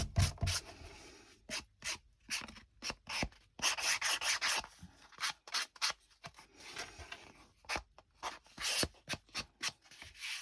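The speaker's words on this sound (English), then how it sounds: "giving them a light sanding" Paper tag edges, glued flush with art glitter glue, get a light sanding, heard as close, dry scratchy rubbing strokes in quick repeated bursts with brief pauses between them.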